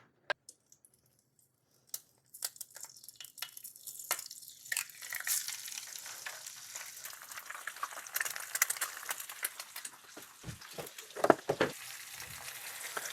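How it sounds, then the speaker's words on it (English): A sunny-side-up egg fries in an oiled pan after a quiet start, sizzling and crackling steadily with scattered pops and spatters that grow busier toward the end. "we're going to immediately crack the egg and place it in the pan"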